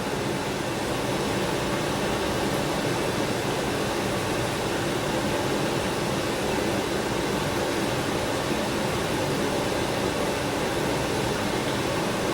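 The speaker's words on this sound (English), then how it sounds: "that's my air conditioner kicking on" An air conditioner runs close behind the camera during a whetstone sharpening session, a steady, loud broadband whoosh of blowing air that holds constant throughout with no speech.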